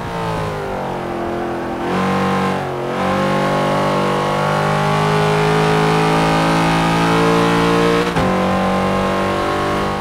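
A heavy muscle car's engine in Forza 5 holds a steady, loud drone throughout, its pitch rising and settling with a brief dip around the middle and a short break near the end, with no talking.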